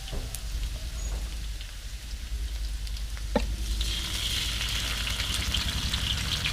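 Crushed garlic frying in a pan for a Thai lard na dish, a steady soft sizzle with fine crackling throughout, close and continuous, with a brief clink partway through.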